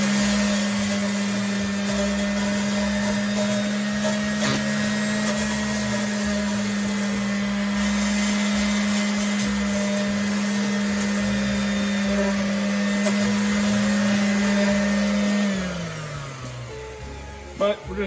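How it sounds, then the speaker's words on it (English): A hand sander hums steadily at close range while cleaning rust off an iron fire starter set, a constant buzzing drone that winds down near the end. "you can add like a hand sander to get all this little bit of rust here, clean it up a little bit"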